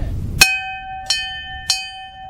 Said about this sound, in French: Les gens qui viennent ici doivent sonner 3 fois la cloche.